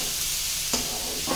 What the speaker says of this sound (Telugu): రెండు బాగా కలిసేలా కలుపుకుందాం.